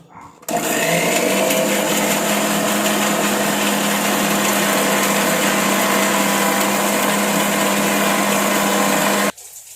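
Kitchen mixer grinder grinding a hair-care plant with a little water runs as a loud, steady whine for about nine seconds, then cuts off abruptly.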